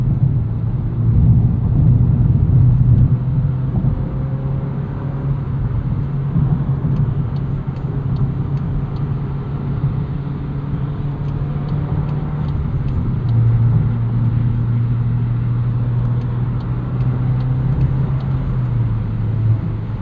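A 2024 Volkswagen Golf R with a 6-speed manual gearbox accelerates onto a highway, its engine a steady, deep droning rumble heard from inside the cabin, with the pitch shifting slightly as it pulls through the gears.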